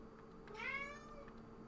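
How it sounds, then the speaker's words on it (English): A cat named Momo gives a single faint, drawn-out meow that rises and falls, heard close in an otherwise quiet room. "Do you want out, or do you just want to meow at me?"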